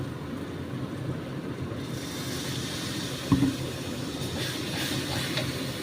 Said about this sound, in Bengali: এখন আমি জল দেবো আস্তে আস্তে